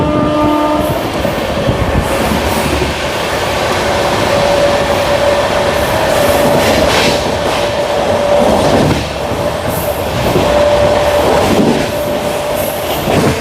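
A Jodhpur Superfast express train runs at high speed between Vijayawada and Ongole, giving a loud, continuous rumble and wheel roar with clickety-clack beats throughout and a steady sustained tone along with it, alone with no talk.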